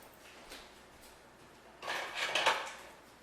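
Metal kitchen utensils clatter briefly as a spatula is pulled from a drawer while making a ham, cheese and kale quiche, a quiet rattle building to a louder jumble of clinks near the end.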